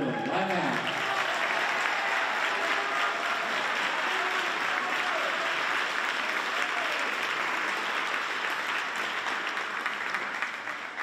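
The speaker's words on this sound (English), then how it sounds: "Make sure to give him a special round of applause" Steady, dense audience applause fills a spring high-school band concert hall, sustained and fairly loud throughout, with faint voices mixed in near the start.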